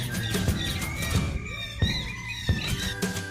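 An African parrot screams at a farm aviary in Namaacha, Mozambique, giving several sharp squawks and squeals of moderate loudness against faint background noise.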